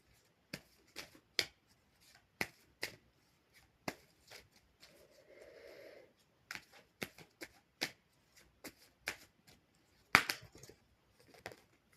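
Tarot cards being shuffled and handled: a series of sharp, separate card snaps and slaps in an uneven rhythm, close and fairly quiet, with a brief softer riffle in the middle and no talking.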